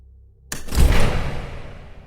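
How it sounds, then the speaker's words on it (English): A door in a horror audio drama creaks and cracks slowly open, a single close swell of sound that rises sharply, peaks and fades gradually, heard alone with no talk. "The doorknob turned and slowly cracked open."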